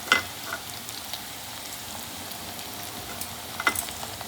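Cumin seeds and green chili fry in hot oil in a home kitchen pan, a soft steady sizzle close by with a few brief spatters and stirring clicks.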